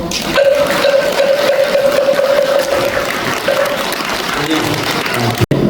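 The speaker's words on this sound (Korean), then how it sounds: "다시 한번 큰 박수 부탁드립니다." Loud, sustained applause fills the hall during a Buddhist dharma service, with a steady tonal hum running beneath the clapping for a while before the sound cuts off abruptly.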